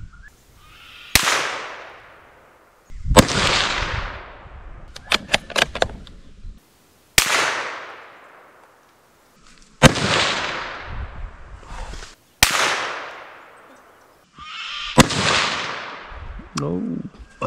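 Rifle shots fired at a target 100 meters away, six sharp loud cracks spaced a few seconds apart, each trailing off in a short echo, with faint talk between shots.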